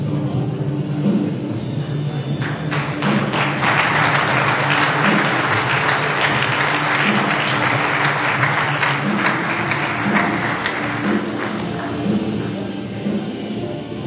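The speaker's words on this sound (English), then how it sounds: "Give them a round of applause." An audience at an ESEA 2009 event claps in sustained, dense applause at the end of the evening, swelling and holding for several seconds before easing slightly.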